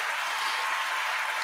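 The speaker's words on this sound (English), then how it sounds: "Give yourselves a round of applause." Crowd applause at a large network marketing event, a dense steady wash of many hands clapping at a distance, even and sustained for a brief stretch.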